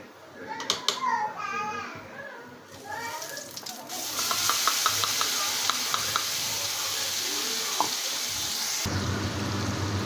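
Ground spice paste sizzles and scrapes as it is stirred over a low flame in a pan with black cumin, dried red chillies and bay leaves, a steady close frying hiss that fills the second half, with a voice talking early on.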